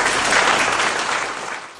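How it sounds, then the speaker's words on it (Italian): Long applause from the gathering at a town council inauguration in southern Italy, a dense, loud wash of clapping that gradually thins and softens toward the end. "Poi sulla giornata è calato un lungo applauso beneaugurante."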